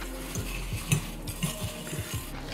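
Crispy flour-dredged deep-fried onions stirred into a vegan cereal bar mixture, giving soft repeated scraping and clinking of a utensil against a bowl in a steady rhythm, close and fairly quiet with no talking.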